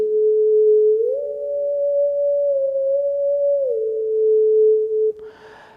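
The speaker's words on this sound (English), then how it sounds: "It'll sound like a big sine tone" A big, pure sine tone from a Haken Continuum EaganMatrix synthesizer, patched as a simple organ, holds steady, glides up to a higher pitch, sustains, then slides back down before cutting off with a brief noisy burst.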